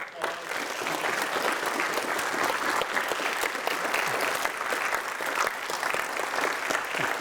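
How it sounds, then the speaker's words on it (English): An audience at a Scouts leadership lecture gives a round of applause, sustained and even clapping from many hands at moderate loudness, with scattered sharper claps standing out over the crowd. "applause."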